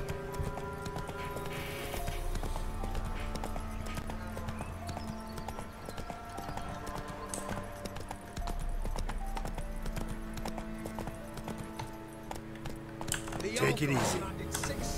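Steady clip-clop of the horse Roach's hooves plods on in a video game, rhythmic and moderately close, layered over game music and ambience while people speak.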